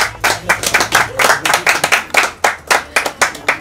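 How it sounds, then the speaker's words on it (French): Studio audience at a Malian student-run radio broadcast on Joliba FM clapping in bursts, sharp claps close and loud with an uneven rhythm for a few seconds. "Applaudissez."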